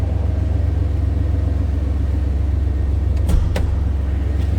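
A 1993 Chevrolet C1500 extended-cab pickup's 4.3 liter V6 idles steadily and close by, a low continuous rumble with an even pulse and a brief knock or click near the end, no voices.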